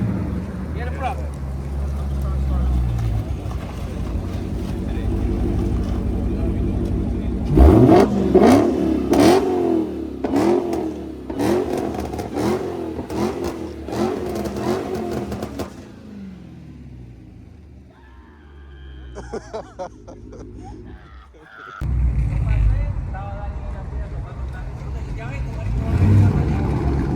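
Ford Mustang GT with a Valvetronic exhaust revving loudly and close, with sharp repeated blips over a deep idling rumble, then dropping to a lower idle before another burst; people talk nearby.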